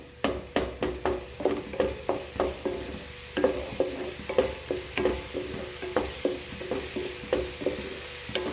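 Ginger-garlic paste fries over full flame in a pan for tender mango pickle, with a steady sizzle under rhythmic stirring strokes that scrape and clack about twice a second, close and clear.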